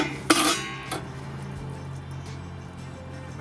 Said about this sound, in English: what we'll do is we'll put the grill on